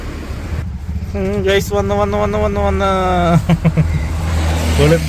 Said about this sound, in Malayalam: ഇതാണ് നമ്മൾ ഇന്നത്തെ റിവ്യൂ ചെയ്യാൻ പോകുന്ന വണ്ടി നമ്മുടെ പെട്രോൾ വണ്ടി ബജാജിന്റെ കേട്ടോ